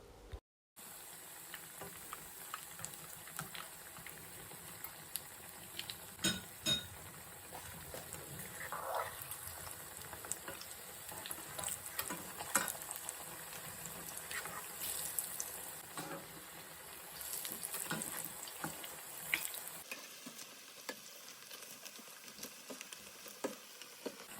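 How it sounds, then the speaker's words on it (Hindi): Potato tikkis shallow-fry in a little oil, giving a faint, steady sizzle with scattered small pops and crackles that runs for about twenty seconds before dropping away. "जिस तरह से हम कबाब फ्राई करते हैं बस उतनी ही क्वांटिटी में ऑयल लेके तो उसमें मैंने टिक्कियाँ फ्राई की"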